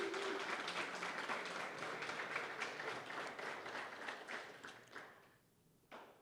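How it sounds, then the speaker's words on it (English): A crowd applauds city staff at a Day Resource Center key handover event, with sustained clapping for about five seconds before it tapers off, followed by a final brief burst of claps. "Can we give our city staff a round of applause"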